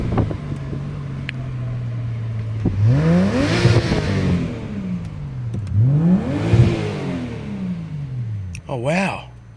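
Subaru Liberty 3.0R with an EZ30 flat-six boxer engine and STI six-speed gearbox, revving up hard twice in long rising sweeps and falling back, followed by a short sharp blip, loud and close with no talk over it.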